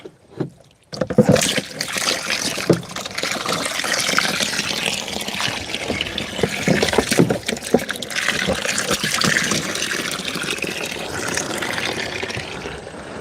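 Water trickles and splashes steadily on a New Zealand farmlet, a continuous close wash of liquid running for most of the stretch after a brief quiet start.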